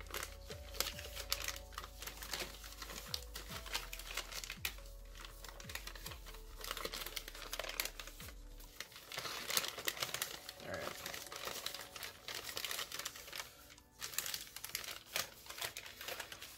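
Paper being folded into a Santa crane origami model, a close, steady run of crisp crinkling and creasing rustles with no talking.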